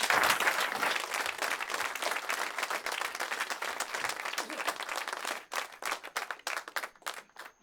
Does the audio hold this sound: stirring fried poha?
no